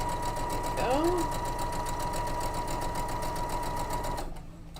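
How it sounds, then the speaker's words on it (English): A sewing machine in a video game stitching pieces end to end, a rapid steady mechanical whirr that runs for about four seconds before stopping abruptly, with a voice speaking briefly over it. "Sew up all these pieces end to end."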